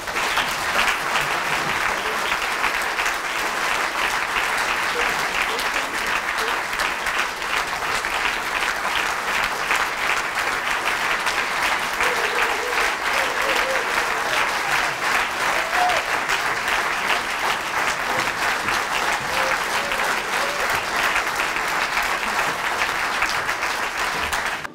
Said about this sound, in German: Ganz grossen Applaus.